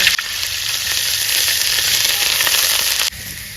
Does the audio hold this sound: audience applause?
no